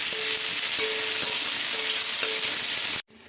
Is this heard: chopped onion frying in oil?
yes